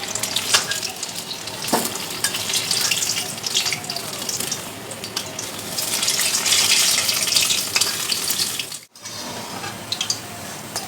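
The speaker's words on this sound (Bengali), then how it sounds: "একটা করে ভাজতে শুরু করি।" Pieces frying one at a time in hot oil in a pan for a Bengali kochu maloti sundori sweet, a steady close sizzle with splashy watery bursts throughout and a brief drop near the end.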